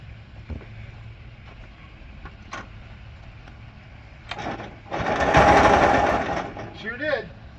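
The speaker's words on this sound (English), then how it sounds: "Now let's see if it'll start the engine." A modified Yamaha G1 two-stroke golf cart engine cranks and briefly catches in a loud, rough burst lasting about a second, then sputters out to a short buzzing rattle over a quiet, noisy background.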